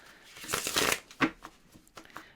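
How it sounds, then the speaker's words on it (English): A deck of cards being shuffled up close, a long riffling burst followed by a few shorter flicks and shuffles, with no talking. "let's give these one more good shuffle while you're observing the cards"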